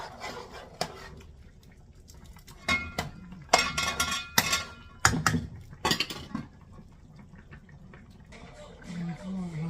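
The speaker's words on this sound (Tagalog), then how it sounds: "Takpan natin siya ulit." Lid going onto a pot of chicken rice arroz caldo, several sharp metallic clinks and clatters in a cluster mid-way, close and loud, with someone talking quietly around them and a simmering bubbling near the end.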